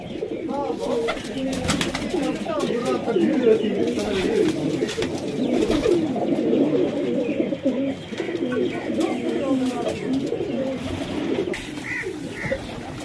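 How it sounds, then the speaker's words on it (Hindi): Several Sherazi pigeons coo steadily in soft, overlapping throaty rolls, with quiet rustling and faint background noise throughout. "कुछ ब्रीडिंग वाले बैठे हैं, बेबी फाइटर कबूतर बैठे हैं"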